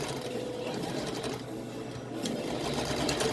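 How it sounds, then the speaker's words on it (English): A sewing machine runs continuously at a steady hum and whir, zigzag and back stitching fabric for a doggie coat, close and alone with no talk. "I'm gonna zigzag it in the corner, back stitch it, zigzag in the corner to give a little bit more depth."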